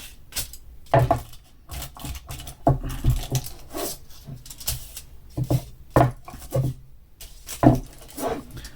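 Rolling pin pressed and rolled over a sheet of kitchen aluminium foil for a crafting project, producing a series of close, irregular crinkling thumps and clattering knocks with brief pauses between them.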